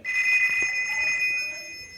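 A telephone rings during a video game's story mode: a steady, bright electronic ring tone holds for the whole stretch, sitting loud over a faint background.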